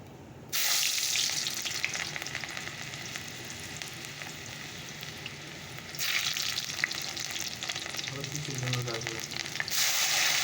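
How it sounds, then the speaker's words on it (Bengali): Chopped tomato and onion go into hot oil already seasoned with cinnamon, cardamom and cumin, bursting into a loud, steady hiss after a brief quiet start, then swelling again later with faint stirring and bubbling. "টমেটো পেঁয়াজ কুচি এগুলো দিয়ে দিই চলো"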